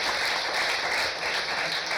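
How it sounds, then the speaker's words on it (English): Steady applause from an audience at a women's leadership event, a dense even wash of many hands clapping that holds through the whole stretch without voices. "I wish for a round of applause while handing out"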